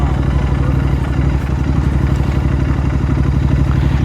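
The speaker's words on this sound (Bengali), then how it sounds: "এই ইঞ্জিনের সাউন্ডটা এই সিঙ্গেল সিলিন্ডার হলে ভালো লাগতো না, এটা ডবল সিলিন্ডারেরই ভালো" Twin-cylinder motorcycle engine idling close by, a loud, steady, throbbing low pulse with mechanical clatter running evenly throughout, with no talking.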